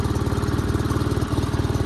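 A Sears GT 19.9 lawn tractor engine idles steadily up close after sitting unused for two years, its low throbbing pulse repeating evenly with a rattly mechanical hum and no voices.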